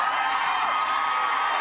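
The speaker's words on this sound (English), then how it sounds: "that's a lot of cheering" A crowd at a town hall meeting in Roswell, Georgia, cheering and shouting together, a dense, sustained roar of many voices at full volume.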